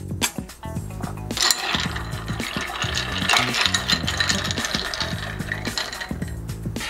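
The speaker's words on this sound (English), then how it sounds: "and give it a quick stir." A Boulevardier of rye, Campari and sweet vermouth stirred over ice in a mixing glass: steady close clinking and rattling of ice cubes against glass, continuous throughout with no voices.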